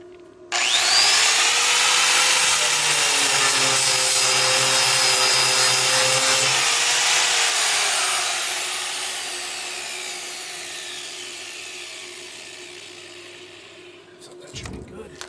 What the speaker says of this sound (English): I got to grind down a spot to put the grounding clamp.